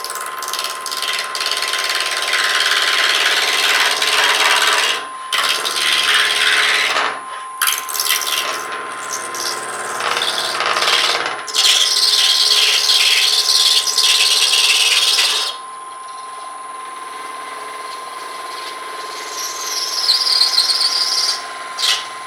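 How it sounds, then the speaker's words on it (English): Half-inch bowl gouge with a fingernail grind cutting an Alumilite pen blank on a lathe, a steady close scraping, hissing rasp with brief pauses and shifts in pitch, a faint whine running underneath, no speech. "Half-inch bowl gouge with a fingernail grind. We'll try and make a pen with it."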